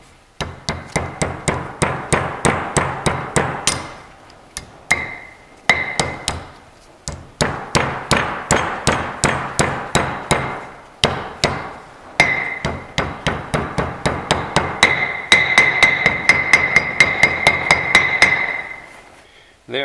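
A hammer strikes repeatedly to drive a grease seal into a 1956 Cadillac front brake hub, sharp metallic blows in fast even bursts separated by short pauses, loud and close, some hits ringing with a higher metallic tone.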